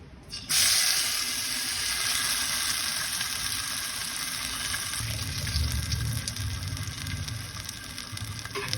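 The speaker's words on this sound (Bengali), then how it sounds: "চাল কুমড়ো ফ্রাই হচ্ছে, দেখতে পাচ্ছেন সাইডে চাল কুমড়ো বড়া হচ্ছে।" Ash gourd fritters frying in hot oil, a continuous broad hissing sizzle that starts abruptly and runs steadily, moderately loud and close.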